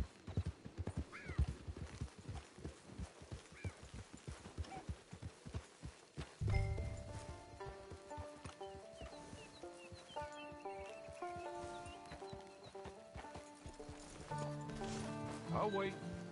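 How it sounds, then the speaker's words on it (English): A horse in the video game Red Dead Online trots with rhythmic clip-clop hooves and gives a whinny, while a voice speaks and a music score enters partway through. "Get your horse."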